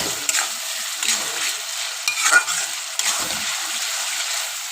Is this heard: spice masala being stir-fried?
yes